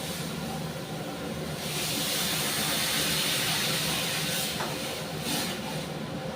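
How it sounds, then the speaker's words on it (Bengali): Water poured into a hot frying pan of browned, fried food gives a loud, sustained sizzling hiss and steam that swells after about two seconds and holds steady, with no talking. "এবার আমি জল দিয়ে দেবো।"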